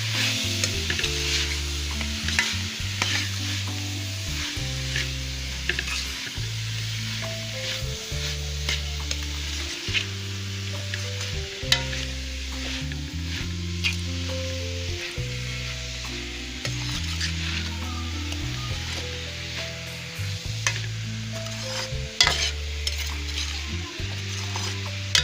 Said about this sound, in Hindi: तो ये प्याज शामिल कर दूँ। अब इन सब चीज़ों की बुनाई करूँगी।